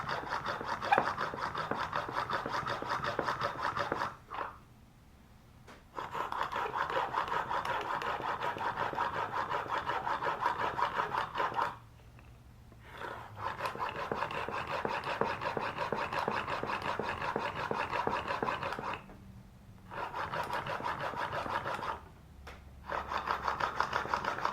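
A spokeshave blade is polished during sharpening with a steady back-and-forth rubbing rasp, close and moderate, in long strokes broken by a few brief pauses.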